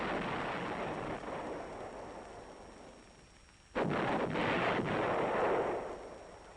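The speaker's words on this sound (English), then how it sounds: "Army artillery has met these demands with massive firepower, using a wide variety of field pieces" Army field artillery pieces firing in Vietnam, 1966: a sustained roar of distant gunfire rolls on, dips quieter, then resumes with a sharp loud burst and several rapid blasts, no voices.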